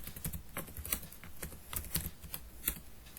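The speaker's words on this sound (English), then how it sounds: "Type the name of the index." Close, steady typing on a computer keyboard: a run of light, irregular key clicks with a few sharper strikes, no voice present.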